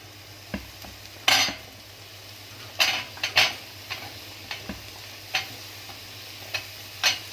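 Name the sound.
stirring sautéed vegetables with carrots in a pan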